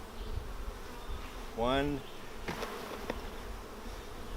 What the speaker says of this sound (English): So we'll shake those bees off